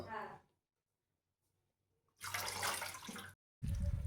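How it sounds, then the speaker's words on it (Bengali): Leafy greens are washed by hand under running water indoors on a cold day. Two loud, close bursts of splashing and gushing water are separated by quiet gaps, and a person talks at the start. "শাকটা আজকে বেশি নেই ধুচ্ছি, অন্য সময় বালতিতে নিয়ে মানে উঠোনে ধুই, কিন্তু আজকে এখানেই ধুচ্ছি।"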